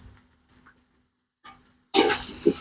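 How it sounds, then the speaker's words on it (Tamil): Ginger garlic paste sizzles loudly in a hot pan while biryani is being cooked, a bright steady frying hiss that bursts in after a few quiet clicks and stirring sounds. "ஓகே நல்லா இஞ்சி பூண்டையும் உள்ளே போட்டாச்சுங்க"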